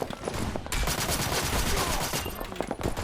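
Dense, continuous gunfire from the online shooter Black Stigma, a steady run of rapid shots holding loud across the whole span, with a brief quieter lead-in before the firing erupts.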